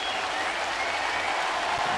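Baseball stadium crowd at a Blue Jays home game applauding steadily, a dense, even wash of clapping and crowd noise that holds for two seconds without a break.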